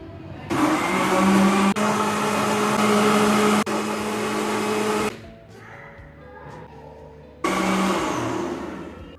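A kitchen blender whirs loudly as it mixes 3-4 peeled bananas with cold milk from the fridge, running in two steady bursts, the second shorter, with a quieter pause between.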